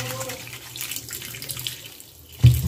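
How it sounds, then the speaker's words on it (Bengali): Tap water runs into a sink while fish are washed, a steady soft splashing stream with a louder clatter near the end. "এই যে মাছগুলো ধুয়ে নিন"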